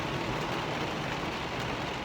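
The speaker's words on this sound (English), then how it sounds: "I love it when it rains and there's some thunder too. And it's coming down pretty hard." Heavy rain pouring down steadily outdoors, a dense, even hiss of drops close by with no break and no voices.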